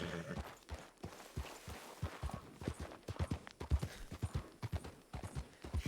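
Horse hooves clip-clop in the Fortnite video game, a steady, fairly quick walking rhythm of light hollow knocks, faint and alone with no talk.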